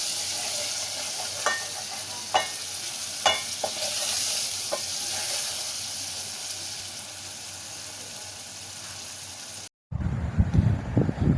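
Masala spice paste for chapli kebab fries in a pan in a home kitchen on Eid, a steady close sizzle broken by a few sharp spoon clinks and scrapes before an abrupt switch to different background noise.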